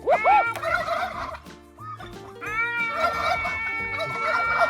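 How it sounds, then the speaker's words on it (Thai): A turkey gobbles loudly and up close in rapid, rattling bursts, pauses briefly, then gobbles again at length, answering a person's voice. "พอเราพูดปุ๊บไก่เขาก็จะร้องตอบเลยนะ"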